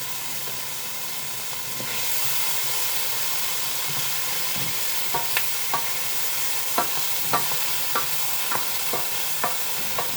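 Basil is stirred into a sizzling tomato sauce, with a steady loud frying hiss joined by a series of close, sharp scrapes and taps from the utensil against the pan in the second half.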